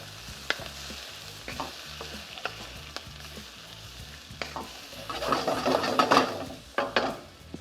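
Chilli squid for a spice bag being stir-fried with spice mix in a hot pan, a steady soft sizzle with rhythmic scraping and stirring knocks, swelling louder toward the end, with no talking.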